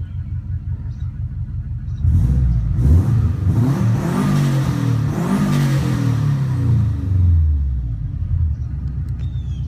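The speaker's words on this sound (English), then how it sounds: "Idle sits perfectly after driving." A 2005 Subaru Impreza WRX STi engine runs close by, with a low, burbling rumble whose pitch swells and falls as the revs rise and settle back.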